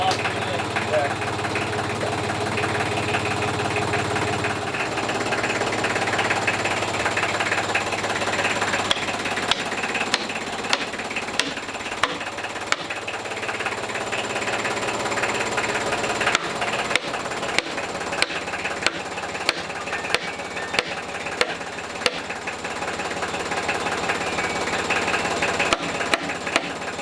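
A tractor engine runs steadily nearby at an off-grid earthbag building workshop, with sharp rhythmic knocking bursts over its drone and people talking throughout.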